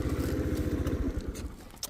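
Honda Today AF61 scooter with a four-stroke carburetor engine idles close by, a steady rapid low putter that runs evenly and then loosens near the end with a few light clicks.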